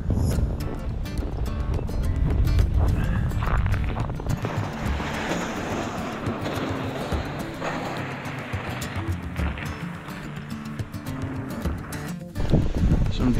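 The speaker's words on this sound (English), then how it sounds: "Wind is still pretty gusty, pretty cold, wind chill" Gusty, cold wind blowing outdoors on a crisp morning at a winter camp, a steady broadband roar with buffeting microphone noise that swells and eases across the whole stretch, no voices.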